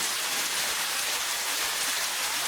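Heavy rain pours down in a steady, dense hiss that stays loud and even throughout, with no voices over it.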